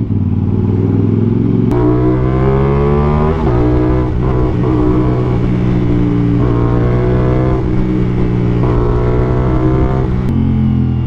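A 2024 CF Moto 450SR-S engine with an SC Project CR-T exhaust revs hard and close, climbing repeatedly to a high-pitched whine between gear shifts, loud and continuous throughout with no talking.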